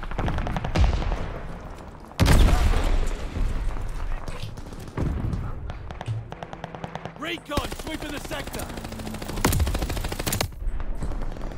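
Rapid machine-gun bursts and single gunshots from the video game Call of Duty Vanguard come loud and close in uneven volleys, with some talk mixed in.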